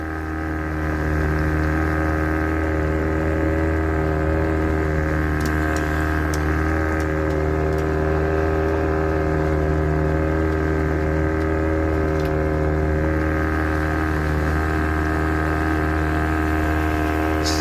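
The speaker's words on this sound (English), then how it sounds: "We're going slow enough with this motor then." A boat motor hums steadily as the boat cruises slowly, a loud, close, even drone with faint clicks and taps near the middle.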